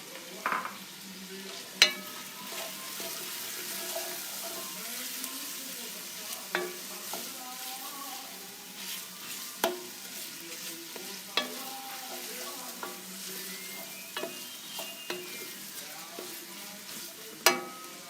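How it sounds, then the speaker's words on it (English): Carrot sautés for lentil soup in a soft, steady sizzle, broken by a string of sharp spoon or spatula knocks against the pan every second or two. "Now we saute the carrot."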